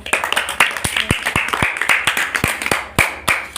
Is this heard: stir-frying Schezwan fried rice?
no